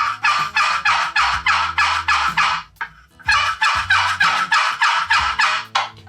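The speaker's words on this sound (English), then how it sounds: "it's a friction-based call, and all you're doing is you're rubbing this paddle against the box" A friction turkey box call, its paddle rubbed against the box, produces two loud, close runs of rapid raspy yelps, each run about a dozen evenly spaced notes with a brief pause between, with no talk.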